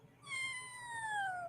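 A cat meows in a played video, a single long, drawn-out meow that slides downward in pitch, clear and fairly close, with no talking over it.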